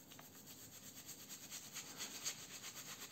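Arko shaving soap is lathered with a brush in quick, rhythmic wet swirling strokes, quiet and close, repeating steadily for a few seconds with no talking.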